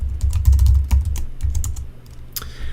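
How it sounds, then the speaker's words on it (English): Keystrokes on a Mac computer keyboard as a password is entered, a quick run of close, crisp clicks in uneven rhythm, ending with a sharper stroke like an enter key. "so we'll type that in."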